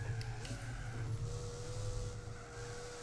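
A Mercedes racing car engine in Gran Turismo 4 hums at a steady pitch, with a brief rise in tone early on and a low rumble beneath.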